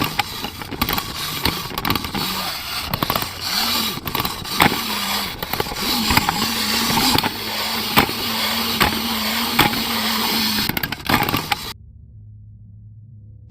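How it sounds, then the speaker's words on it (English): Mechanical whirring cue from Scrap Baby in the FNaF 6 video game, a gritty, motor-like grinding drone with repeated low whirs under crackling static, steady and fairly close before cutting out near the end. "If when you pause the tape you hear that mechanical whirring sound, that means you need to electrocute her."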